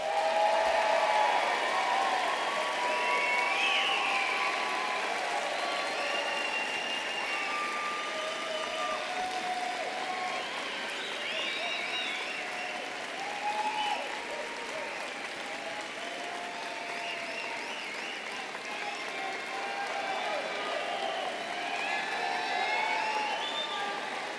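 Sustained applause from a commencement audience cheering graduates at a university social work college ceremony, steady and fairly loud across the whole stretch with scattered whoops and voices mixed in.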